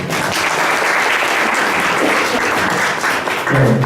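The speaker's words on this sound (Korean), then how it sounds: "박수 한번 부탁드립니다." Loud, sustained audience applause following a startup pitch at a venture forum, dense and steady throughout, with a voice starting to speak just as it ends.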